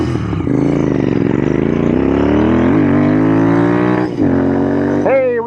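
A Royal Enfield Interceptor 650 engine revs hard up close, its deep twin-cylinder drone rising in pitch. It holds high revs, dips briefly near the end, then surges again.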